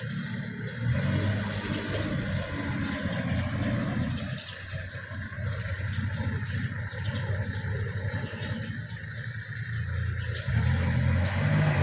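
A Kubota 34 farm tractor engine runs steadily nearby, a continuous low rumble with slight variations in intensity, with no speech.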